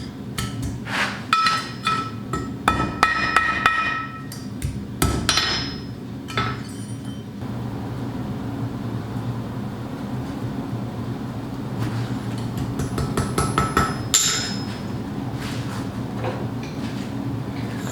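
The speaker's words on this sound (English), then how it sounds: "Really light taps, just tack welding it first." A light hammer taps metal while tack welding a forged yggdrasil pendant, a quick run of bright, closely spaced ringing strikes followed by scattered taps and clinks over a steady background hum.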